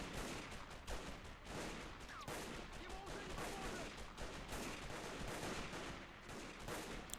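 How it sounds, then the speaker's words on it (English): Constant gunfire from a large-scale video game bridge battle, a continuous crackling barrage of overlapping rifle and machine-gun shots at a steady level, with no pauses and a voice faintly in the mix. "A lot of constant shooting"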